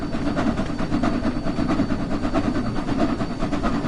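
Steady rumble of an old English train in Train Sim World 6, with continuous low engine drone and rolling wheel noise holding at an even, loud level throughout, no voices.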